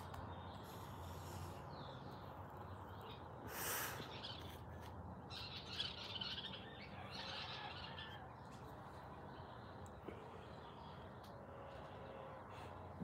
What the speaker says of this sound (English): Bird politics going on over there.